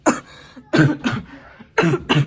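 A person coughs repeatedly in close, loud bursts, several harsh coughs spaced out with brief pauses, including a double cough at the end.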